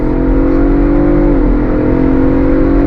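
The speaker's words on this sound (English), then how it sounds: "From a slow roll, on throttle, that 10 speed drops down and we're off." A 2023 Ford Bronco Raptor with a 10-speed automatic pulls away from a slow roll on throttle, its engine a loud, steady close-up drone with a brief downshift dip in pitch partway through.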